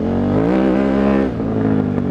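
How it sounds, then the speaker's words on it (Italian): The engine of a KTM 950 Adventure Rally motorcycle, Gio Sala's 2003 Dakar bike, ridden off-road, revs loudly and continuously with a strong, rising and falling tone and a brief dip in the middle. There is no talk. "sentiamo il motore"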